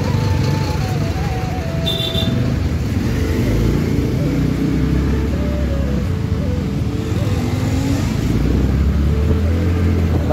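Jammed road traffic on Baijnath Road, with cars and motorcycles idling and creeping along. A loud, steady engine rumble fills the scene, and a few tonal horn-like notes rise over it.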